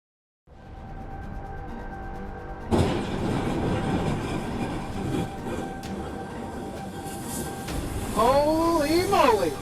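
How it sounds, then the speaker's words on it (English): A train runs along the rails with a rushing rumble and clatter that swells suddenly, loud and continuous, while a steady hum sits underneath and high squealing tones rise near the end. "the train turned the car into a spray of flying metal fragments"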